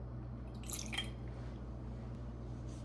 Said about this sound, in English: And we're going to add distilled water